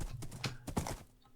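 Hooves of a Minecraft horse clop in a quick galloping rhythm, several close hoofbeats over about a second, then fading out, with no voice over them.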